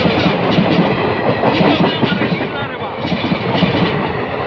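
A train rumbles steadily along the tracks, close and loud, with a continuous clattering roll of wheels over rails throughout.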